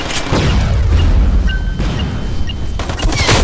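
A grenade detonates in the online shooter Metro Conflict, a loud, sustained rumbling boom with heavy low-end roar and crackling debris, close and dominant, ringing tones briefly cutting through.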